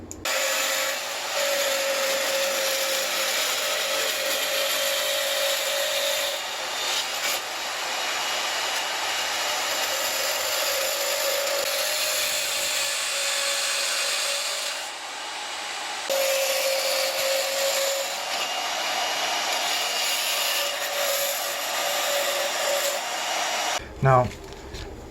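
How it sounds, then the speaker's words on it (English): A hand saw cuts apart brass dress hooks in a blacksmithing workshop, giving a steady loud rasping drone that runs almost unbroken, with short pauses. "I'm actually going to cut them apart with a saw."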